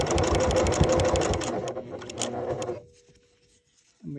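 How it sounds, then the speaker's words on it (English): A sewing machine stitches an upcycled jeans purse in a fast, rhythmic mechanical patter that slows and stops midway, leaves a near-silent pause, then briefly starts again. "and continue sewing"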